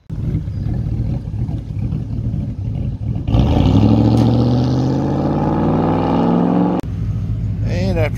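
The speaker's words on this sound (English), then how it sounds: "We're gonna drive it and see if it did any better" A 2003 Ford F150 pickup that had been idling rough is driven off, its engine note rising steadily and loudly as it accelerates, then dropping back to a lower steady drone.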